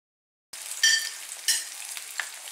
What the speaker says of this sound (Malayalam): ഈ നെയ്യ് ചൂടായി വരുമ്പോഴേക്കും ഇതിലേക്ക് നമ്മൾ ഈ കട്ട് ചെയ്തെടുത്ത പഴം ഇട്ട് കൊടുക്കാം